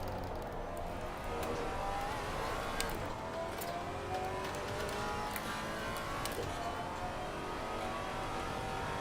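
A race car roaring past in Assetto Corsa Competizione at Indianapolis, heard from a Maserati GT4 cockpit, a steady engine drone with rising, shifting revs and a faster car sweeping by, no voices.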